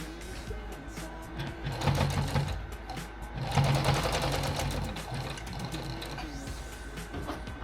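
A sewing machine stitches a shofar bag in two close, steady runs of fast mechanical whirring and needle chatter, each swelling briefly and then easing off.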